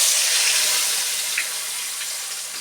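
Potatoes frying in oil with turmeric in a pan, a steady, close hiss and sizzle that holds at a constant level throughout, with a faint pop partway through.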